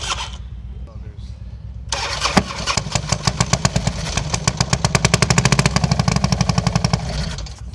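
A rebuilt Harley-Davidson FXR motorcycle engine cranks after a quieter stretch near two seconds, then catches and runs loud and close with a rapid, steady lumpy firing rhythm that builds and holds.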